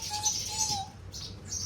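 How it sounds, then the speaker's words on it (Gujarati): Sparrows chirp close by in a few short, bright bursts against a quiet background, with no talking. "અત્યારે આપણે અહીં ચકલા બોલે છે મસ્ત"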